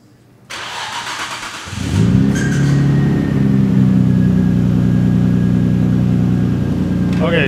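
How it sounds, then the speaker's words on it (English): A 1999 Nissan R34 GT-R cranks briefly, then its engine catches and settles into a loud, steady idle close by under an open hood, with people talking over it. "We're gonna go ahead and pop the hood and start it."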